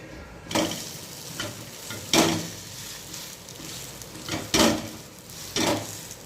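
Adai, a lentil dosa, cooking on a pan, with a soft steady sizzle broken by several sharp scraping strokes of a spatula at regular intervals, with no talking.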